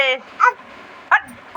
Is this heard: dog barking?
yes